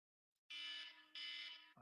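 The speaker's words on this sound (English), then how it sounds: "My alarm just went off." An alarm clock or phone alarm sounds in two loud, steady bursts of a buzzing electronic tone, each about half a second long, close to the microphone, with a short break between them and a brief noise at the end.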